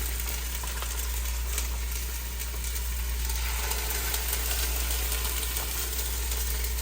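Chicken breasts searing unseasoned in a hot pan in a garage kitchen: a steady, even sizzle over a constant low hum, with no talk.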